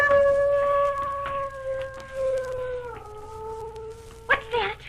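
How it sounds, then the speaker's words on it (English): A dog down the street gives a long sustained howl that holds steady, dips, then trails off into a few short yips, at moderate distance over low background hum. "It sounded like a wolf."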